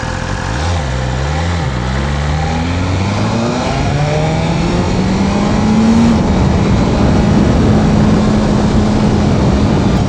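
Engine of a 2025 BMW S1000RR sport bike, held below 8,000 RPM during break-in, rising and falling through a few revs, then climbing and holding a steady high drone, loud and close with no talk.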